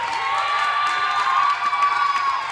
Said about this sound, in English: The tennis camp applaud.